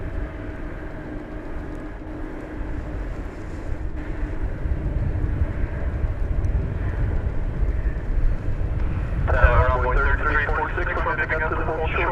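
A Boeing 747 rolling for takeoff on a DFW Airport runway at night, a heavy rising jet roar heard from a distance, swelling steadily with a harsher tonal whine joining near the end, with wind buffeting the microphone.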